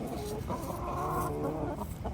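A Brahma partridge rooster clucks in short, repeated bursts nearby, a few throaty calls over a low farmyard background.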